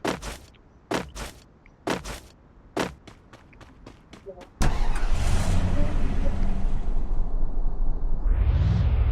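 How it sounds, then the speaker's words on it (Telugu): A vehicle drives steadily as a loud, constant engine and road rumble, preceded by several sharp knocks and shuffling sounds before it starts. "వెహికల్ ఉంది, వెహికల్ డ్రైవ్ చేద్దాం గాయస్"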